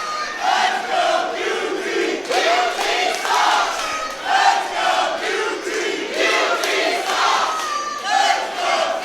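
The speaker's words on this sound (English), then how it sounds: "And you can hear that crowd is split." A wrestling arena crowd roars with mixed, split reactions, rising and falling in loud surging waves of cheers and shouts that fill the space continuously without a break.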